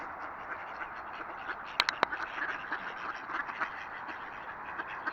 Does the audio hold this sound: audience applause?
no